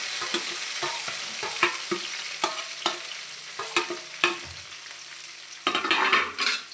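Ginger, curry leaves and coriander leaves are stirred in a hot pan with the gas switched off, giving irregular scraping strokes over a light, fading sizzle, close up and without talking.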